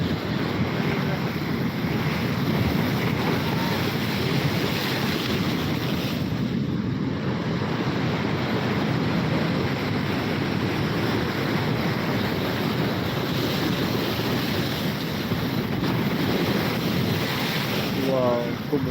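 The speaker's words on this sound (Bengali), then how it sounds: "ভয়ঙ্কর ভয়ঙ্কর ঢেউ উঠছে দীঘা সমুদ্র উপকূলবর্তী এলাকায়" Rough, churning sea surf at Digha beach on the Bay of Bengal, a continuous loud roar of crashing waves mixed with steady wind buffeting the microphone, with no voices over it.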